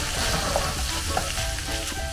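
Tomato and onion frying with ground meat for picadillo, a steady close sizzle running through with a few soft stirring scrapes and no voices.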